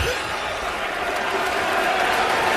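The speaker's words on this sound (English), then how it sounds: "How about this crowd, huh?" Steady roar of a basketball arena crowd cheering at a college game between Georgia and Arkansas, a dense continuous wash of voices that swells slightly toward the end.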